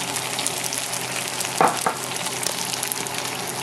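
An egg frying in hot oil in a wok for pad thai, a steady close sizzle with a brief louder crackle burst midway, no voices.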